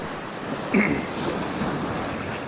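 Ocean surf breaking on the rocky shore at 1770, Queensland, Australia, a steady close wash of water with a soft rumble, under wind buffeting the microphone.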